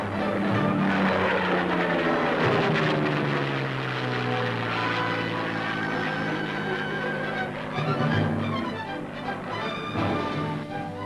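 Propeller airplane flying low overhead in a 1944 wartime newsreel pickup test, a loud droning engine with a sweeping pitch shift as it passes, steady and close throughout.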